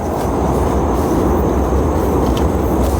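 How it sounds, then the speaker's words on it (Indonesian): A loud, steady rumbling roar of a passing train fills the air continuously near a waterfall, broad and close with no break. "Ada suara kereta. Kenceng banget deh."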